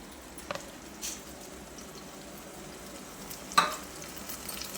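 Spiced masala paste with a splash of water frying in a pan for Karnataka vegetable sagu: a faint, steady sizzle with a few soft stirring clicks, no talking.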